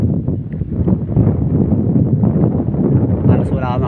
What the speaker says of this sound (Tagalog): Halos wala ka makikita ang ulap sa sobrang lakas ng hangin.